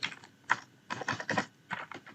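Bursts of clicky keystrokes on a computer keyboard while JavaScript code is typed, arriving in quick clusters with short pauses between them and no talking.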